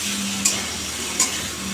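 Pointed gourd and potato fry in oil in a home kitchen pan, making a steady, close sizzle with two faint ticks of a utensil against the pan and no talking.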